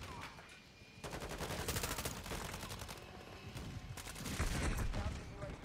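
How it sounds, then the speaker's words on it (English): Rapid video-game gunfire from an NBA 2K23 city mode, dense bursts of automatic shots rattling close and loud for several seconds, with excited players talking over it. "Bro, stop shooting at me"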